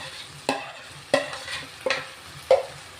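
Marinated prawns frying in a pan with home-ground spices, a low sizzle under four distinct scraping strokes as they are turned and stirred, close up with no talk.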